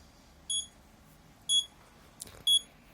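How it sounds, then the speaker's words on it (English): An Arduino-built bomb prop for gel blaster games beeps three times once armed, with each short tonal beep falling about one second apart. The beeps sound clear and close against a quiet background, and a faint knock is heard just before the last one. "Now to arm the bomb, you hit this button, or switch I should say. And it'll beep for 40 seconds just like the real game."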